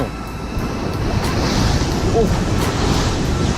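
Ocean waves break on a shore during fishing in Australia, making a steady, loud surf roar with wind buffeting the microphone and faint voices in the background.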